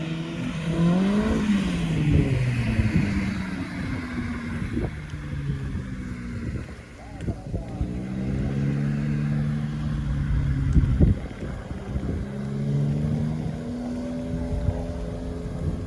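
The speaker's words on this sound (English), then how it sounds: "And they're also drifting it up over here." Toyota 86 and Subaru BRZ cars drifting at Fuji Speedway, engines revving and rising in pitch in repeated sweeps, moderately close and continuous for the whole stretch with a steady outdoor background.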